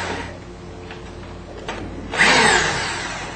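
A power drill whirs in short bursts, then revs louder and harsher near the end, close by with no talking.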